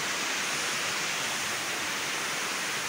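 Mountain waterfall in Himachal with clean water pouring down, a loud steady broadband rush that stays constant throughout, close by and alone with no voices.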